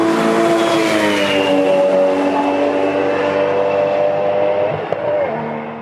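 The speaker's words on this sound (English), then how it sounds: "Cars not entering the pits are at wide open throttle here, and there is no sound limit at VIR, so it's loud." Race cars at wide open throttle roar past the pit lane at Virginia International Raceway, with no sound limit in force; a loud, sustained engine howl with a steady pitch that fades slightly near the end.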